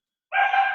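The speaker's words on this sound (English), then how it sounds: "Who's got the dog?" A single short dog bark comes in loud and close over a microphone during an online class, after a moment of silence.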